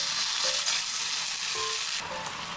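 Water poured into a hot pan of tofu and chili bean paste, producing a loud, continuous hissing sizzle that shifts and settles near the end.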